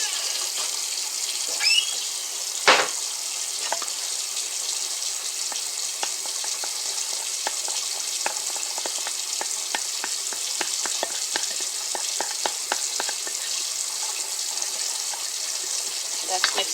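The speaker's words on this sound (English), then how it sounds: "I'm going to give this a mix." Ingredients for a dump-and-go crockpot meal being stirred and mixed, a steady wet rustle with many small scraping ticks of a spoon in a bowl, close and moderately loud throughout.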